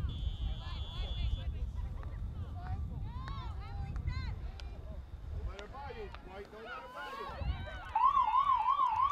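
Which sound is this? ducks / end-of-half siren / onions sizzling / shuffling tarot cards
end-of-half siren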